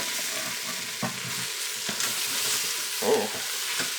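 Spices being stirred into butter chicken sizzling in a pressure cooker, with steady frying hiss and a few scraping knocks of the utensil against the pot.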